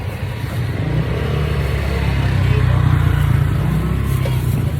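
A motorcycle engine droning on a street, a steady loud low rumble that holds throughout with faint surrounding street noise.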